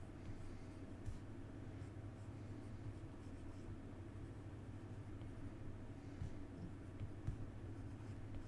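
Pencil drawing lines on paper while sketching hands, a steady soft scratching texture running throughout, close and continuous with a few small taps, no talking.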